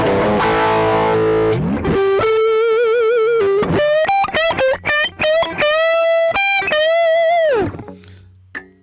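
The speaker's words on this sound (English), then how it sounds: "it's a pretty warm sounding distortion pedal" Electric guitar driven hard through a Fender Dual Pugilist distortion pedal with the drive turned fully up, playing loud sustained distorted notes and bends, with short choppy stabs in the middle and a ringing final chord that fades out.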